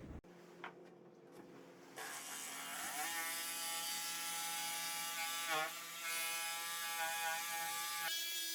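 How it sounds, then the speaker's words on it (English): A power drill spins up and bores holes through wooden boat seat parts, a steady whirring drone with rising and falling pitch sweeps as the bit bites, running close and loud for several seconds before stopping abruptly. "Cut out a second, drill some holes."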